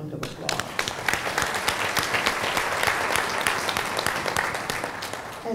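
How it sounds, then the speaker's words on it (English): A conference audience at a financial services panel gives full, steady applause that stays even throughout, with some crowd murmur underneath. "would you give him a big round of applause?"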